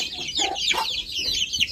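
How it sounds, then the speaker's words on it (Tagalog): Native chickens on a farm cluck and chatter close by in a short burst of overlapping calls, with no talk. "Kung sino yung may gusto ng native chicken, marami tayo dito."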